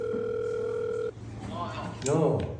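A telephone dial tone while placing a call, a loud steady near tone that cuts off abruptly, followed by a voice speaking over a lingering low hum.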